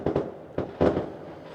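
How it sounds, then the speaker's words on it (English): Fireworks from a show playing on screen pop and boom in several close, loud bursts over about a second and a half, with no talking. "Well, there's random fireworks."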